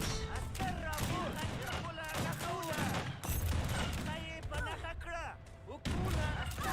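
Volleys of musket and gunner fire crackle steadily through an Age of Empires 3 battle involving Afghan forces, dense and continuous, with someone talking over the shots throughout.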